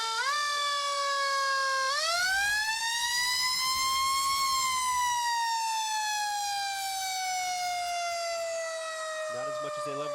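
Fire truck siren from the North Bangor Fire Company rescue truck in a Halloween parade, a loud rising electronic wail that climbs, holds and slowly falls, close by and sustained with faint crowd talk beneath.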